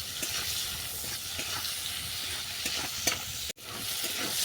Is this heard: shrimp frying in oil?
yes